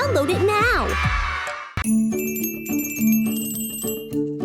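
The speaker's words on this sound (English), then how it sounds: "Let's play with the colorful Christmas bells." Colorful Christmas bells ring out in clear, sustained metallic dings after a voice speaks, with several bright tones overlapping and lingering.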